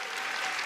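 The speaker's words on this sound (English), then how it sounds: "Carlotta Cataldi, a big applause for her over there" Audience applause at an opening session for youth-led discussions, with steady, dense clapping from a crowd that stays even and fairly loud throughout the brief moment.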